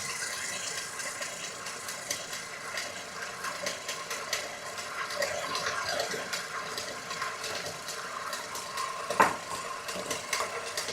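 Water is poured into a gluten-free baguette batter in a mixing bowl, a soft, steady trickle and splash with faint clinks and rattles throughout, fairly quiet and close, with no talking.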